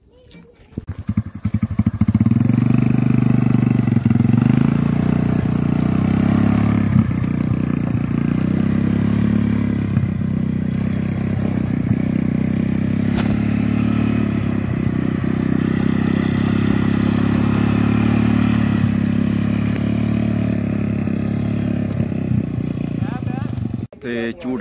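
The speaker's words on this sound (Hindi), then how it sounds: "तो झूटा ला लिया बाइक च, बड़ा मजा आया" Motorbike ride near a dam and grounds, a steady loud engine drone with low rumble and rattling clatter sustained throughout, close up, with wind and some voices mixed in.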